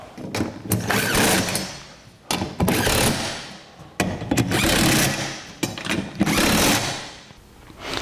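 Nuts with lock washers are tightened onto the seat mounting studs of a 1949 Chevrolet gasser passenger seat. Several quick, close bursts of rapid mechanical ratcheting come in uneven spurts with short pauses between them.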